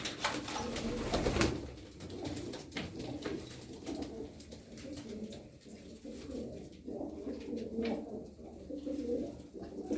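Pigeons coo in soft, repeated low calls throughout, with a brief burst of wing flapping or rustling near the start, sounding close by as if in a loft or coop.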